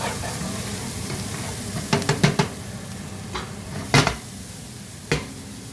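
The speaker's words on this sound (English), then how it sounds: "Give that another stir." Steak in a peppery sauce sizzles steadily in a pan while a utensil stirs it, giving a few sharp clinks and scrapes against the pan.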